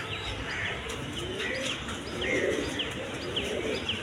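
A pair of white Denis pigeons coos softly at close range, gentle repeated calls with occasional chirps over a steady background hiss.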